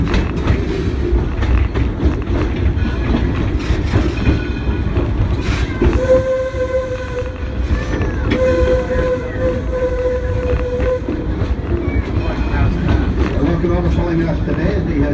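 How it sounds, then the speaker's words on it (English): A coal-fired 65-ton steam locomotive, Detroit and Lima Northern Railway number 7, rumbles steadily close by with clanking and mechanical noise, a long horn-like whistle tone sounding midway, and people talking faintly beneath. "the historic Detroit and Lima Northern Railway steam locomotive, 65-tonner, coal-fired, number 7"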